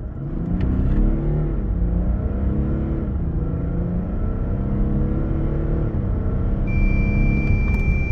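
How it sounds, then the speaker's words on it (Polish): Audi Q8 3.0 V6 TDI quattro diesel accelerating hard to 100 km/h, a steady low engine rumble and drone heard from inside the cabin, with pitch rising and dropping at gear changes and a faint chime near the end. "Sprawdziłem też czas do setki w najwolniejszym trybie jazdy i bez żadnego pompowania czy włączenia trakcji"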